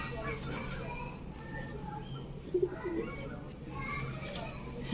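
Kasuri pigeons in a breeding pair coo softly and low amid steady background noise, with faint bird chirps and a few brief louder bursts near the middle.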